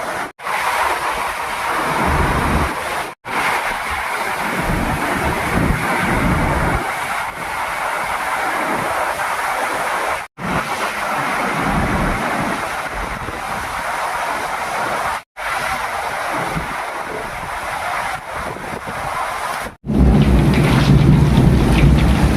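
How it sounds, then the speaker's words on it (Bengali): A storm in Goa brings heavy rain and strong wind, making a continuous loud roar of wind and downpour that buffets the microphone, broken only by brief cuts. "তারপরেই বৃষ্টি শুরু।"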